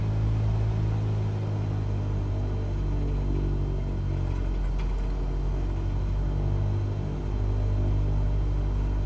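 An aircraft taxis on the ground in Flight Simulator 2020, a steady low engine drone and rumble that holds evenly throughout with no talk.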